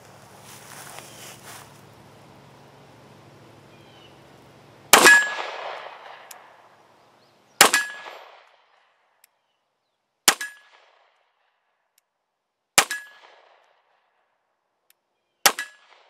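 Shots from a CZ P-10 C pistol ringing off steel targets at an outdoor range: five sharp metallic clangs spaced a few seconds apart, each with a short ringing decay, after a faint low rumble.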